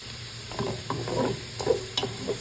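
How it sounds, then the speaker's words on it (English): Vegetables cooking in oxtail meat drippings in a pot, with a low sizzle and repeated spoon-stirring scrapes and clinks close by, no talk. "add the vegetables into the pot and cook them in the meat drippings"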